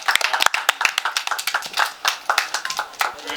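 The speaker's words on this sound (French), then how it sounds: "Vous pouvez vous applaudir." A group of people clapping for themselves at the end of a casting session, a brisk run of uneven, overlapping handclaps close by, steady for a few seconds with no talking.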